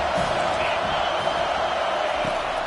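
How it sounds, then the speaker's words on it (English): A stadium crowd at a college football game gives off a steady, broad roar of cheering and noise, continuous and moderately loud with no break across the short stretch. "This crowd bringing the energy and noise early."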